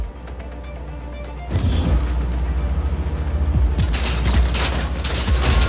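Gunfire in the video game Just Cause 4 breaks out abruptly over a low ambient hum, turning into a loud, sustained barrage of rapid shots and crashing impacts that lasts to the end.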